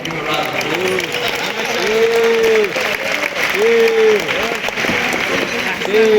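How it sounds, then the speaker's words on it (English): Applause from the audience at a Shia poetry recitation competition final, continuous clapping running under someone speaking in sustained, melodic tones throughout. "So give a round of applause."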